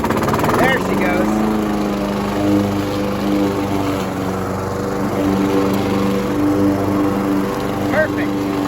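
Honda HR214 push lawn mower, its carburetor freshly cleaned, runs steadily at close range in a continuous buzzing drone, with a faint voice over it briefly.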